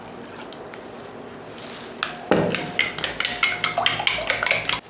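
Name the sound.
mixing powdered sugar and milk in a bowl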